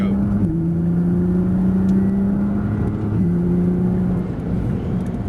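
A Nissan GT-R accelerates hard around the Dunsfold race track, its engine droning steadily and loud from inside the car, with pitch climbing through gears and a brief drop at each shift.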